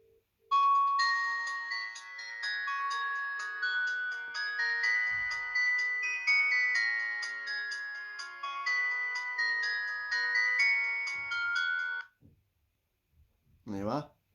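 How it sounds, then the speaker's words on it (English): Ringtone of a Dsfen V1 Chinese flip phone: a bright, loud electronic melody of quick repeated notes plays steadily for about eleven seconds, then stops, with a brief voice afterward. "Show you what it's like when it rings."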